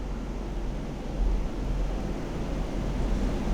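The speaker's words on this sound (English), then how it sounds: "You can really hear the wind hitting this building." Typhoon wind buffeting a building in Tokyo, a steady low roaring rumble with gusty swells, heard from indoors and fairly loud throughout.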